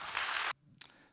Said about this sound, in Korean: 우리 따뜻한 환영의 박수로 맞이해 주실까요